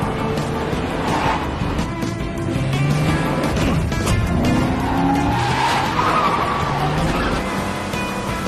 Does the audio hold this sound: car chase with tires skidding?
yes